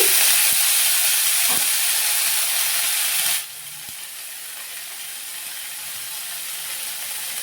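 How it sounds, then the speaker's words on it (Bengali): Mango pieces dropped into hot oil with whole mustard seeds, giving a loud, dense hissing sizzle that abruptly drops to a softer steady fry midway, with a few faint clicks. "গোটা সর্ষে ফোড়ন দিচ্ছি এবার আমগুলো দিয়ে দিচ্ছি"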